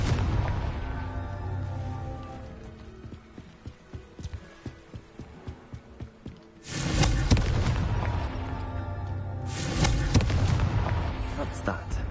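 A Confringo fire spell explodes in Hogwarts Legacy, a sudden loud booming blast bursting in after a stretch of quieter rhythmic thumps, followed by a second heavy burst a few seconds later over game music.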